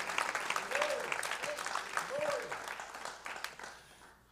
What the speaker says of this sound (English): Oh, give the Lord a hand clap of praise.